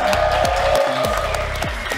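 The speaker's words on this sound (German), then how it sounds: "macht mal alle einen fetten Applaus für Rezo und Joey's Jungle!" A crowd applauds at a ninja obstacle-course tournament, scattered claps rising over loud, steady music with a thumping bass line throughout.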